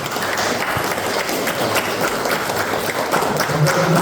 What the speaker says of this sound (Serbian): Molim vas jedan aplauz za njega